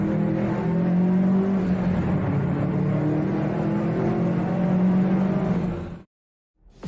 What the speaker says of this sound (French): arrivé au tunnel il commence à accélérer très fort avec la vitesse de sa Subaru